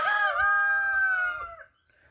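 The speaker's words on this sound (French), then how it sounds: "Là il y a encore un autre coq Splash." A Brahma Splash rooster crows once, close and loud, a long drawn-out call that trails off into quiet farmyard surroundings.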